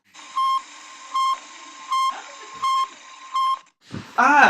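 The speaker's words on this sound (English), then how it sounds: "These are the actual sounds that the Sputnik made while it was in space." A recording of the Sputnik satellite's radio signal plays a series of five evenly spaced electronic beeps, each short and bright, before a brief breathy noise at the end.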